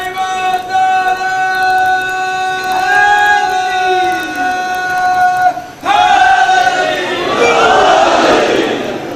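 At a Muharram majlis, a lead voice holds a long, loud call, and then a large gathering answers with the Naara-e-Haidari slogan, the many voices surging together in a powerful, close response.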